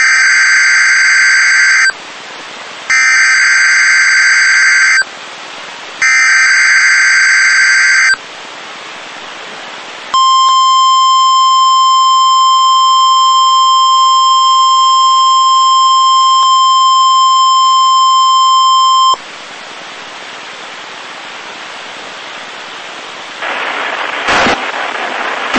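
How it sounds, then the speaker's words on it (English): NOAA Weather Radio public warning system test signal from the National Weather Service: loud, steady electronic tones in three short repeated bursts, then a long sustained single alert tone for about nine seconds, followed by quieter hiss and a brief click. "The preceding signal was a test of the NOAA Weather Radio's public warning system."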